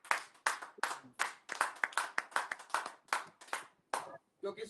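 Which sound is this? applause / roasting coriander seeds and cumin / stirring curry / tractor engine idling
applause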